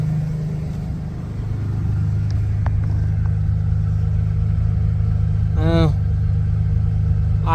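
A Ford Bronco engine idles at about 1,000 rpm with a steady low rumble, close and constant, while a couple of brief high squeaks cut in near the end.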